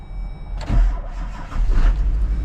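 A plow truck engine cranks briefly and catches, then runs with a steady low rumble close by.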